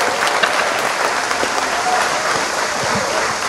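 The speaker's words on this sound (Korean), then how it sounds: "큰 박수 한번 부탁드리겠습니다. 박수!" A large outdoor crowd at a harmonica ensemble concert during a moonlit music festival bursts into loud, sustained applause, a dense continuous roar of clapping with faint voices mixed in.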